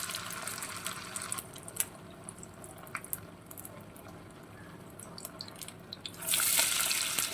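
Valai poo (banana flower) vadai batter frying in hot oil: a soft, continuous bubbling hiss with small crackles, swelling into a louder, brighter sizzle near the end.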